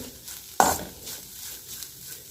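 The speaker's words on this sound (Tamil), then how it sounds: "இப்போ நல்லா தேங்காய் வதக்கிக்கிடுவோம்." Grated coconut for aval laddu is sautéed in a pan, opening with a sharp metallic clank of the spoon against the pan, then a quiet sizzle and soft stirring scrapes.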